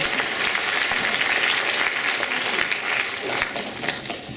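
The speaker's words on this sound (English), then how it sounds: "If y'all will give them a round of applause, I appreciate it." A school orientation audience gives a round of applause, many hands clapping in a steady dense patter that thins slightly toward the end, with scattered voices in the crowd.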